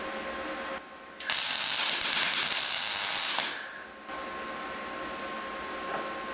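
Tack weld laid on a truss fitted to a Dana 30 axle: a loud, steady crackling burst of about two seconds, then a softer hiss as it fades, with shop background on either side.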